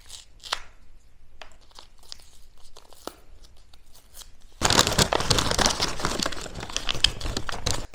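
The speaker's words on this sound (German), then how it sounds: "Ich reiße die Packung auf." A few faint crinkles, then a loud, continuous tearing and crackling of a plastic McDonald's McShaker Fries seasoning packet being ripped open up close.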